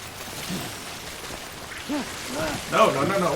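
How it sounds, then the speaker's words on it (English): Steady rain falls in the video game Death Stranding after snow gives way, a soft constant wash throughout with a voice speaking over it in places. "And the snow transitions back to rain."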